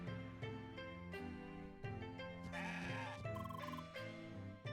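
Goat bleating from the video game CrossCode, a wavering tonal bleat over steady game music with chiming effects, fairly faint overall and with no talking.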